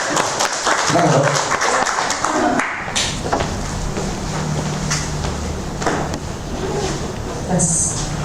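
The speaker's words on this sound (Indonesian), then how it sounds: "penyampaian materi penugasan dari Dr. Suti, kita beri tepuk tangan yang meriah" An audience at an Indonesian medical lecture on uncomplicated malaria claps briefly and unevenly for a couple of seconds, followed by room noise and faint movement.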